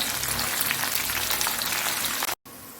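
Dried red chillies and curry leaves crackle and sizzle in hot oil for a mango curry, a dense, steady frying hiss close to the pan that cuts out abruptly near the end.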